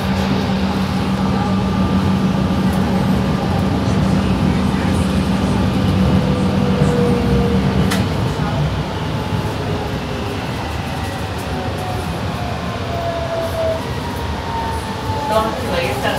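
A Line 5 metro train in São Paulo, Fleet F, runs between stations with a loud continuous rumble of wheels on rail, a steady motor hum, and shifting whines as it travels. Voices are heard faintly over the noise.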